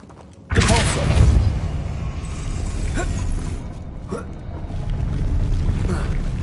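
Depulso spell cast in Hogwarts Legacy, a sudden heavy whooshing thump that rings out loudly and is followed by creaks and rumbling movement, then a few lighter knocks.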